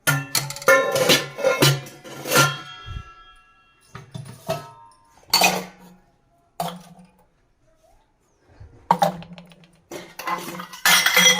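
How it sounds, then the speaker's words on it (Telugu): Steel glasses and vessels are lifted out and set back down in a kitchen, giving bursts of close metallic clanks and ringing clinks separated by short pauses. "మొత్తం గ్లాసులు గిన్నెలు మొత్తం తీసేసుకొని మళ్ళీ ఇక్కడ పెట్టేసుకుందామండి"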